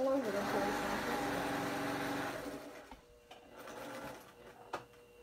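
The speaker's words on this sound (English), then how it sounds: "I'm just sewing on the line." Sewing machine stitching cotton along a line, a dense steady whirr for about two seconds that then stops, leaving faint clicks and handling noises.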